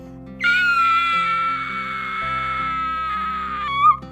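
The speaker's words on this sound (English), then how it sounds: "At looking at the 3 bears, she happened to scream." A girl's sustained, high-pitched scream in a story scene, loud and alone for several seconds, with a brief rising shriek at the end.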